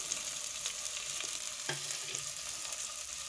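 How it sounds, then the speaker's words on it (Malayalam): Chopped onions fry in a pan with a steady low sizzle while being stirred, a sharp scrape or clank of the utensil near the middle, with no talk. "സവാള ചേർത്ത് കൊടുത്തതിന് ശേഷം നമുക്ക് അതിനൊന്ന് ഇളക്കി കൊടുക്കാം."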